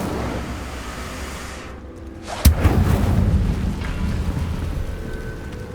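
An Incendio fire spell cast in Hogwarts Legacy bursts out as a sharp, loud whoosh and crackling blast after a quieter stretch, then rolls into a sustained rumbling roar of flames.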